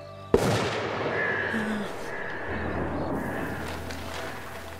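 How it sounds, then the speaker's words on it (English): A sharp gunshot cracks once from hunters in the game As Dusk Falls, followed by a lingering outdoor ambience with distant rumbling and faint tones. "Somebody shooting, they hunting."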